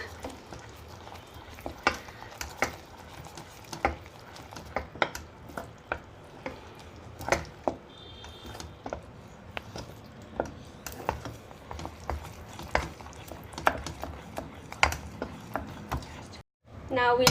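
Caramel sauce stirred in a pan, repeated light scraping and clinking strokes at an uneven rhythm, fairly quiet and close.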